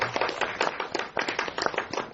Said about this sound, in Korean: 네, 박수 부탁드립니다.